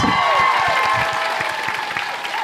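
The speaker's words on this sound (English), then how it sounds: "Once again, another round of applause." A convention crowd at a fan-panel event applauds in a brief, steady burst of many hands clapping, with a faint murmur underneath.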